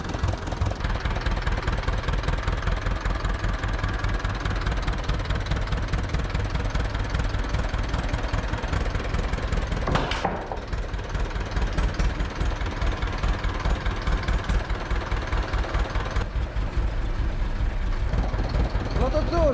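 An Ursus C-325 tractor engine runs steadily throughout, a loud, close, rhythmic diesel chug with a brief dip near the middle, while someone talks over it.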